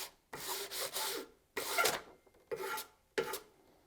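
Rasping strokes of a chainsaw file, four separate bursts with short pauses between them, close and fairly loud.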